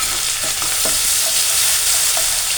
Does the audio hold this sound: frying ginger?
yes